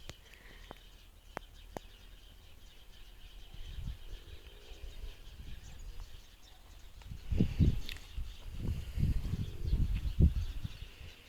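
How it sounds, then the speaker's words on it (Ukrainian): Sparrows chirp in an autumn garden among pine and fir trees, their calls sounding faint and scattered, while louder rustling and handling thuds of garden work come and go close by. "Горобці так кричать."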